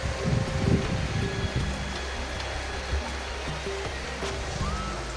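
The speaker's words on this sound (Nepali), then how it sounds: "मुगुमा यति खतरनाक बारिस भइरहेको छ" Heavy rain and rushing water in Mugu bazaar, a dense continuous roar with a broad wash of noise, louder at first, with faint low rustles underneath.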